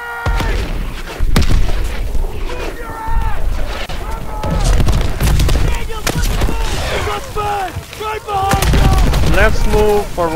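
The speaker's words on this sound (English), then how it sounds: "we are getting hit by the artillery fire this time" Heavy WWII combat in Call of Duty WW2: booming artillery blasts and bursts of rapid gunfire roll on loudly and continuously, with shouting voices mixed into the din.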